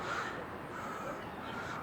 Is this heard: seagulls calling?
yes